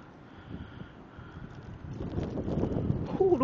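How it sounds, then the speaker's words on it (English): Wind gusts through a snowy backyard during a whiteout blizzard, a steady broadband rush that swells louder toward the end with no clear voices. "Ooh, the wind blowing."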